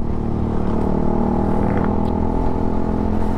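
A Suzuki Gixxer 155fi motorcycle is being ridden and shifted through its gears, its exhaust droning loud and steady up close. A faint clatter rises briefly partway through.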